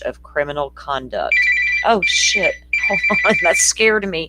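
A phone rings in repeated electronic trills, loud and close, as someone talks over and between the rings.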